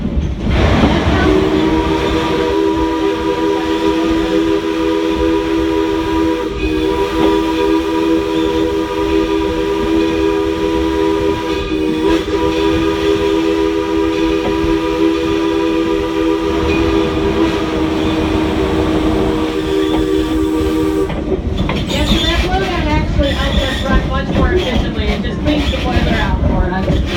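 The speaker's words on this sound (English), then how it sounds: "That big jet of steam on the left is the engine blowdown." A steam locomotive's engine blowdown on a heritage railroad: a loud, steady jet of hissing steam with a droning tonal hum for about twenty seconds, then clattering mechanical noise as it tails off.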